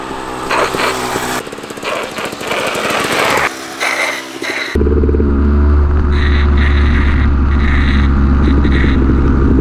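A motorcycle laps a track where riders practise knee-down cornering, its engine a loud, raspy, continuous drone close by that shifts to a steadier, deeper tone partway through.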